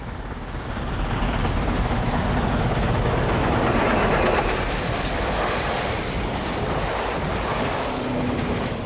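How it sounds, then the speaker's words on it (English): A 14-car Southern Pacific noon Daylight steam passenger train speeds past on a cloudy day, a loud, steady broadband roar of wheels and rushing cars that swells in and holds close for several seconds without a break. "A 14-car noon daylight speeds by us on this cloudy day."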